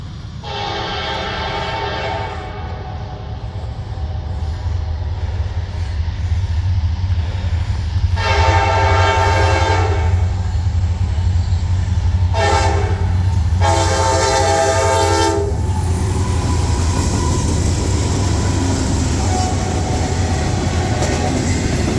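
Norfolk Southern freight train with black and white locomotives rolls past, its loud chorded horn blaring in several long blasts over a steady rumble of wheels and cars that continues after the horn stops.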